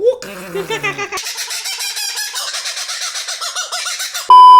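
A kookaburra's raucous, cackling laugh rises in rapid repeated bursts, loud and close, ending abruptly with a steady tone.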